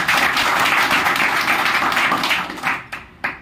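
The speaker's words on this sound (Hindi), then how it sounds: "दिल वाली एक जबरदस्त ताली हो जाए" Audience in a marketing and motivational seminar hall breaks into loud, dense applause that holds steady, then thins out into a few scattered final claps near the end.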